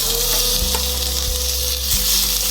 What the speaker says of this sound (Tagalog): Okay, ihawin na natin siya.